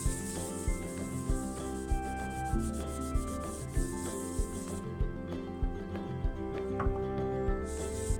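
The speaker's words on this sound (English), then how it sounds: "Right, just added the sanding sealer on" Steady rubbing hiss as sanding sealer is applied to a spinning wooden lamp piece, over the hum and whir of a woodturning lathe, with regular rhythmic thumps as the piece turns.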